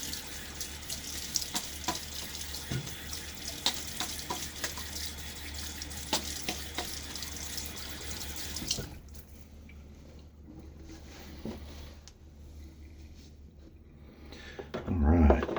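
A tap runs steadily for shave rinsing, a close, even splashing stream for about nine seconds before it shuts off, leaving quieter handling and water sounds.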